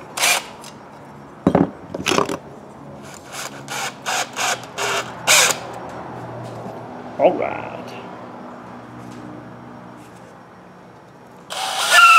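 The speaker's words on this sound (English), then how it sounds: "we're going to step up to the next reamer" A hand reamer cuts as it steps up to the next size, giving a series of short scraping strokes in quick succession, close and moderately loud, then a long quiet stretch before a final burst of scraping.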